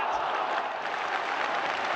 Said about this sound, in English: No wonder the crowd applauded